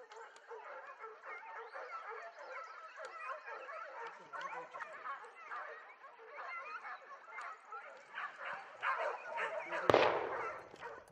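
A pack of hunting dogs barks and yelps excitedly at a wild boar during a montería hunt, rapid overlapping barking with a sharp loud bang near the end and voices nearby.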